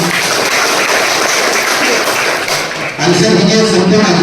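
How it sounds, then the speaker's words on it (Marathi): An audience applauds at a police Ganesh festival planning meeting, a dense, loud wash of clapping that swells again after a brief dip. "जोरदार टाळ्या यांच्यासाठी"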